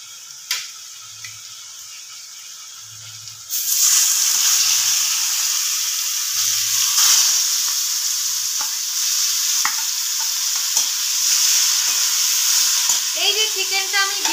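Chicken pieces with turmeric hit a hot pan after a few soft thumps, bursting into loud, steady sizzling and frying that carries on close up with occasional clinks of stirring.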